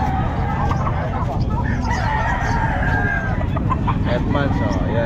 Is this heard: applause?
no